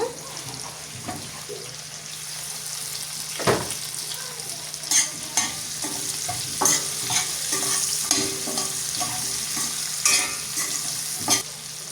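Large-cut onions, two of them, stirred and frying in a pan for an eggplant curry, with a steady loud sizzle and repeated scraping strokes of the spoon throughout, close up.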